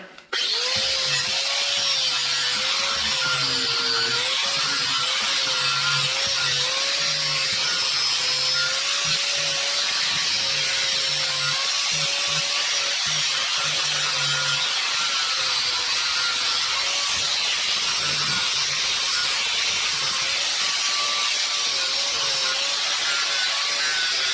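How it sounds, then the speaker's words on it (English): Grinder smoothing cut plastic edges of a seat guard on a Yamaha YXZ: a continuous high, even whine with abrasive rasping runs close and loud for the whole stretch, with no talking. "Now I'll just clean it up with the grinder."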